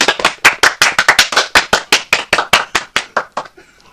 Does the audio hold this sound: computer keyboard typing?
no